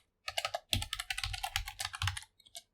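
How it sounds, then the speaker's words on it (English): Rapid typing on a computer keyboard, with close, crisp keystrokes in quick bursts and a short pause, and no voices. "I'm just going to type in some more text over here."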